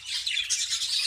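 Budgerigar chicks inside a breeding box give a dense, continuous high-pitched chirping and peeping, close and steady with no pauses.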